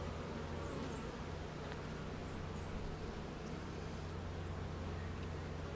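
Honeybees swarm-buzz around an open hive during an inspection for swarm preparation, a steady, dense drone that holds close and continuous throughout with no talking.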